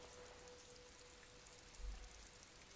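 Steady soft rain from the video game Disco Elysium, a faint even hiss of drops on the ground with a brief low rumble near the end.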